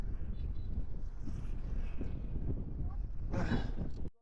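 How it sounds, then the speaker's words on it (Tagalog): Strong wind buffets the microphone while riding a Honda Beat scooter along the coast at Infanta, Quezon, a constant low roaring rush with a brief louder gust near the end. "Ang lakas ng hangin dito."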